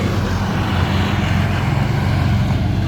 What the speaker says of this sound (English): Let me let this loud vehicle go by.